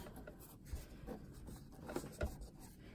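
A sewing machine edge stitches a pinned patch pocket in a steady, quiet mechanical run, with a few soft thumps and knocks along the way.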